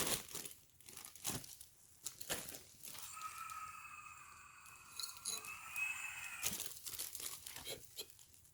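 A plastic bag holding cannabis flower is crinkled and handled up close, with soft scattered rustles and a longer faint crackling stretch in the middle, quiet overall.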